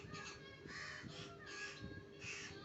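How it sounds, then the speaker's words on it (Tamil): Crows caw in repeated loud bursts at a nest where parent birds feed two chicks, the calls coming close and harsh in several clustered rounds over steady background noise. "இப்போ அம்மா காக்கா வந்து 2 குஞ்சுக்கும் ஊட்டுவாங்க."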